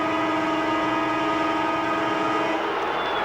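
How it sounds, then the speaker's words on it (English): Stadium siren sounding at the end of a quarter in a 1996 AFL match, North Melbourne against Sydney: a loud, sustained tonal blast held steadily throughout, backed by dense crowd noise. "The siren sounds to end a fantastic quarter by the Sydney Swans."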